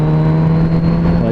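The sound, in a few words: Kawasaki Z900 RS motorcycle accelerating to overtake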